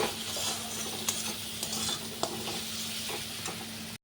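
Spiced onion and tomato masala being sautéed in a pan with fried potato and taro, giving a steady close sizzle with a few light clicks of a spoon against the pan and no voices.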